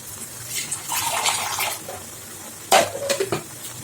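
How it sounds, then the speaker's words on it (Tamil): Water is poured into a cooking pot of liver in a home kitchen, a close rushing splash followed by a sharp metallic clink and a few smaller clatters of utensils. "தண்ணி கழுவி ஊற்றிடலாம்"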